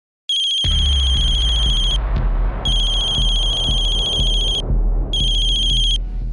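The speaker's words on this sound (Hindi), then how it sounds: "तुम्हें जब भी इसका फोन आता है तुम फोन काट देते हो।" A mobile phone rings for an incoming call, its bright electronic ringtone playing in repeated bursts with short gaps, loud and close, over low indoor background noise and faint thumps, with no one speaking.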